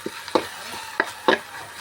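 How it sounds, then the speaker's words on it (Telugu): A spoon stirs ponnaganti leaf curry in a cooking pot, giving four soft, separate scrapes and knocks against the pot in a quiet kitchen. "మళ్ళీ ఒకసారి కలుపుకున్నామండి కూరని"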